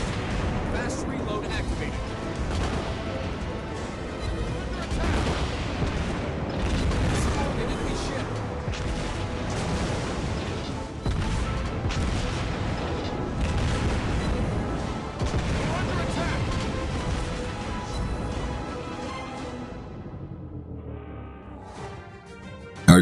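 Heavy naval gun salvos from the battleship Warspite in World of Warships Blitz boom repeatedly in a dense, rumbling barrage. The blasts keep coming with little pause, then thin out and fade near the end.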